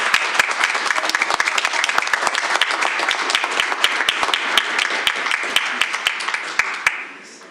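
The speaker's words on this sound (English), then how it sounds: "Let's give them one more round of applause." A room full of people at a school board meeting gives a round of applause, loud dense clapping with sharp individual claps standing out, sustained for several seconds before tapering off abruptly at the end.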